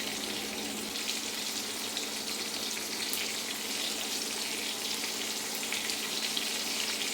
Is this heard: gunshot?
no